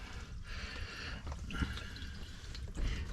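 Water draining from a portable washing machine through its hose, with soft irregular trickling and splashing at close range and no talking.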